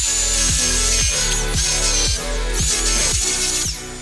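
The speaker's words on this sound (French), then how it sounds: "je vais aller chercher la ponceuse pour poncer un petit peu la solive qui est derrière" An electric sander grinds steadily against a wooden joist, with a loud continuous motor whine and a rhythmic pulsing as the pad works the wood, close up with no talking.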